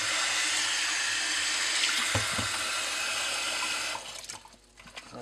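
Tap water running steadily over dirty aquarium gravel being rinsed in a sink, a loud continuous gush with brief clatter of stones, tapering off near the end.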